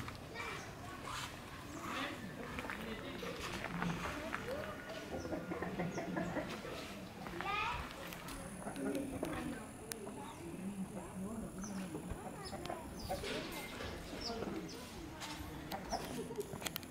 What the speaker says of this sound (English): We have our chicken moving around